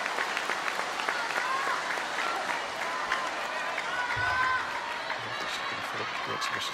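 Crowd applauding at a table tennis match during the ITTF Mixed Team World Cup 2024, with sustained dense clapping and some cheering. A commentator speaks over the applause.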